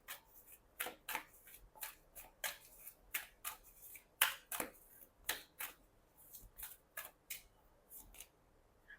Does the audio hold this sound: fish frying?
no